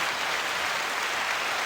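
Steady applause fills the space at a loud, even level, a dense wash of claps with no distinct individual hits and no voices over it.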